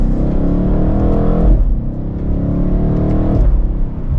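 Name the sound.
BMW M8 Competition Convertible accelerating in sport mode, second gear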